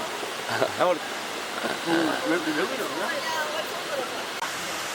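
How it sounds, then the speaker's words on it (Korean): Steady rushing water from a waterfall near Mount Fuji roars in the background while people talk excitedly over it. "폭포 좀 더 가까이 가보도록 하겠습니다"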